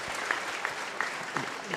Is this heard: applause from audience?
yes